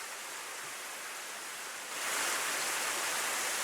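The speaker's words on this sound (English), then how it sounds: "suddenly hear the sound of water splashing" Water splashing in the DRAMAtical Murder visual novel, a steady broadband wash that swells louder halfway through and continues alone with no voices.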